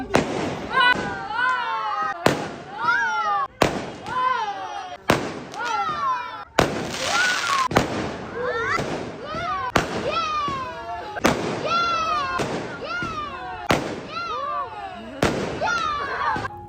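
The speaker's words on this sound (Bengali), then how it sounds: "অনেক বাজি কিন্তু মাসির বিয়েতে ফাটানো হয়েছিল" Fireworks and firecrackers go off at a wedding celebration in a rapid run of sharp bangs and pops about every second, each followed by whistling, crackling tails, loud and close throughout.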